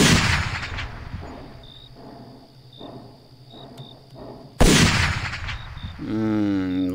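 A single loud gun blast in a horror camping video game rings out, then fades into quiet ambience with faint cricket-like chirps before a second sharp burst cuts in near the end.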